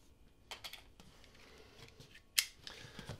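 Scissors snip and slice through a cardboard shipping box holding graded video games: a few quiet cuts, then one sharp close snap near the end, with no talking.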